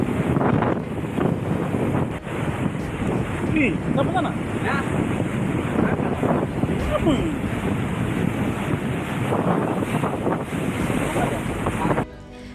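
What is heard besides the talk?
strong wind and sea waves on the coast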